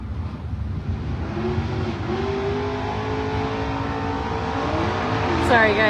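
Drag racing cars at a GLSSA event launch and accelerate, a steady engine roar with rising harmonic tones climbing through the gears, loud and continuous, ending in a sharper surge near the close, with crowd and commentary voices mixed underneath.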